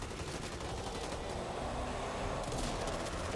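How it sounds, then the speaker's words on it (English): Rapid shotgun blasts in the Back 4 Blood video game, dense bursts of gunfire blending into a continuous loud barrage with no clear gaps. "Oh, this shotgun is"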